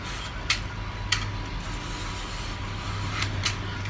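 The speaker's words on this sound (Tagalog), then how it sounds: "Manipis lang na kayas mga kalipad, tahigaan nyo lang itong cutter para lang kayong nagtatasan ng lapis" Cutter blade thinly shaving bamboo for kite wings, a quiet steady scraping rasp with a few sharper strokes standing out, alone without talk.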